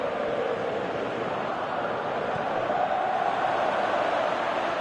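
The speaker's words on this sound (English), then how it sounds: "Crowd appreciates good football all round there." A football stadium crowd gives a broad, steady roar of applause and murmur, continuous and fairly loud throughout, with no distinct voices standing out.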